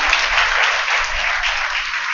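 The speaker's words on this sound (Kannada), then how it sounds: "ಚಪ್ಪಾಳೆ ತಟ್ರಿ ಒಂದ್ಸಲ." Audience applause at a religious discourse held at a math in Kalaburagi, a dense, steady clapping from a crowd that fills the whole stretch at an even level.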